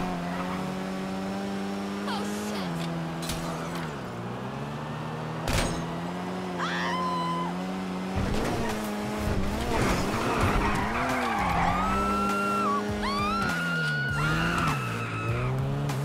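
A Vapid GB200, modeled on the Ford RS200, races in GTA 5 with a droning engine, repeated tire squeals and skids that grow busier later, plus faint thumps and some background voices.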